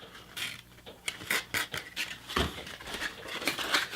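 A stockwhip handle is worked against a 120 grit sandpaper belt, making soft, irregular rasping strokes at close range, with short scratchy bursts and brief pauses between them.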